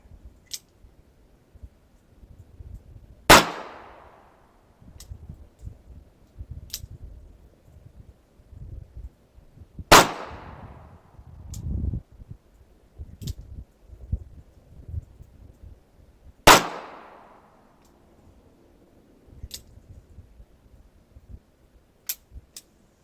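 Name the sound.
Smith & Wesson Model 14 revolver shots fired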